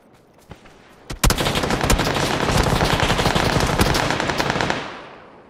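Automatic gunfire in the video game PUBG, a loud, close, sustained burst of rapid rattling shots lasting several seconds after a couple of single shots, then cutting off.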